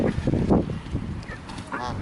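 Ducks and other birds crowd around someone feeding them, giving loud honking, quacking calls that overlap with rustling and bird chatter at close range.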